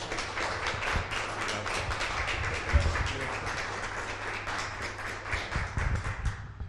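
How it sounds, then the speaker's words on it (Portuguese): Church congregation welcoming a pastor with steady applause, many hands clapping in a dense continuous patter with a low hum underneath, moderately soft and slightly distant. "Vamos recebê-lo com uma salva de palmas."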